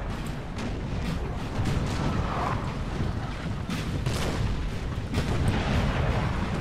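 Artillery bombardment in Napoleon Total War, dense rolling booms and cannon fire layered into a constant loud, rumbling battlefield din.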